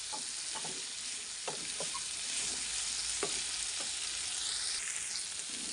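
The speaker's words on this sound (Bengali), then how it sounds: "সব কিছু দিয়ে ভালো করে আবারও কিছুক্ষণ ভেজে নেব।" Chopped green chillies and tomatoes frying in a pan, giving a steady close sizzle broken by a few sharp scraping stirs of a spatula.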